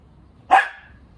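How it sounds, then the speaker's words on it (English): One sharp, close bark from a dog during a name-recognition training game, standing alone against a quiet room. "And then she barks, so she doesn't get it."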